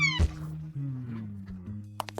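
A kitten gives a short meow with falling harmonics near the start, followed by a lower drawn-out cry in a quiet room, with a few faint clicks at the end.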